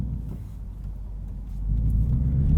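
A 2020 Ford Mustang GT convertible's low exhaust rumble, non-active exhaust, drones steadily from inside the cabin while driving, swelling slightly louder partway through as the engine works harder.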